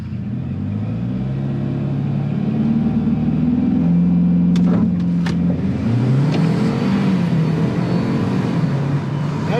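A 2026 Ford Maverick's engine holds a steady loud rev against the foot brake, the pitch climbing and settling, with a few sharp clicks midway and no talk over it.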